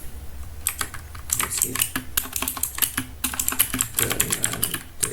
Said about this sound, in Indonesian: di sini saya telah mengetikkan atau menginputkan halo apa kabar